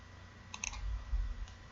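A short, sharp computer mouse click on a Finish button in a Windows Server 2016 VPN setup, a quick double tick followed by a fainter single click in a quiet room.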